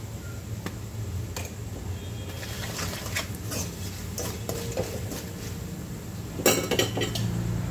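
Spices and onion being sautéed in a pan for Vidarbha-style dal kanda, with repeated metal spoon scrapes and clinks against the pan over a low sizzle, one sharper clatter near the end.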